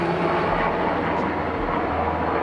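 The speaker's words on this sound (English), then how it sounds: "That was a big helicopter." A loud, steady roar of a large helicopter passing close overhead, filling the whole moment with dense rumbling noise.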